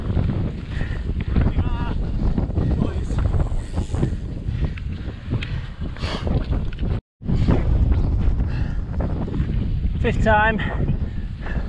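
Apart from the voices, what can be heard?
wind blowing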